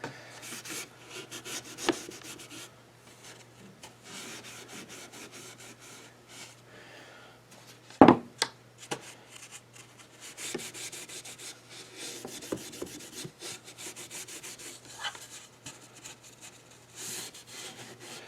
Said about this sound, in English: I'm going to go all the way around and then buff, because you have to buff after you wax.